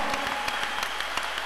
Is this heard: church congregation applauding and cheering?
yes